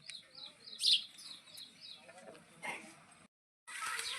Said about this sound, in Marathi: चिमण्या पार अंगाला दडकून